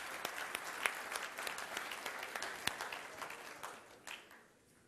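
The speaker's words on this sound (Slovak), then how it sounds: "Takže aj jemu veľký potlesk za dnešný deň." Audience applause at a business presentation on stage, a steady wash of many hands clapping that tapers off toward the end, heard alone without speech.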